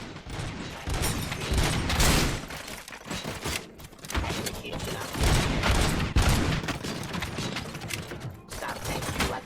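Gunfire in a RoboCop: Rogue City firefight: bursts of rapid shots with mechanical clatter rise and fall in waves and stay loud and close throughout, with short lulls between volleys.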